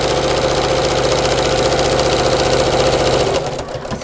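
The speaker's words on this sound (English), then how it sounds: "I'm just going to sew along each side in a nice contrasting" A sewing machine runs a long straight stitch along the side of a tote bag, a loud close steady mechanical chatter that slows and stops near the end.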